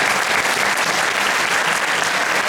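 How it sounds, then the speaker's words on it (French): An audience at a gaming conference applauds in a steady, dense burst of clapping that fills the room from start to finish. "on vous applaudit"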